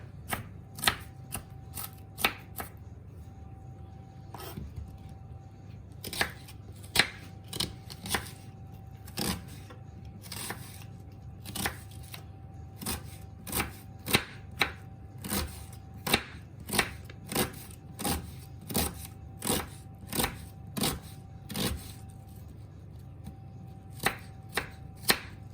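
Knife chopping an onion on a board, a steady series of crisp, close taps in quick bursts with short pauses between runs, no talking.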